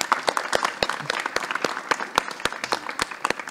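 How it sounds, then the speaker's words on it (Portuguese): Scattered applause from a small studio audience welcoming a guest on stage, made of sharp, distinct hand claps at an uneven rhythm, close and moderately loud, with faint voices underneath. "Palmas pro Marcelino, pessoal!"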